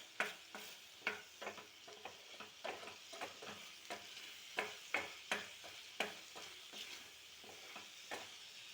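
Thickening milk cake mixture is stirred in a pan, with a quiet, regular scrape of a spoon repeating roughly every half second over a faint cooking hiss.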